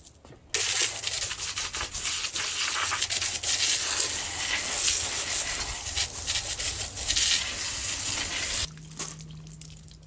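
A wire brush scrubs steadily against a grimy engine block to loosen grit. The coarse, continuous rasping runs close and loud for about eight seconds, then stops abruptly.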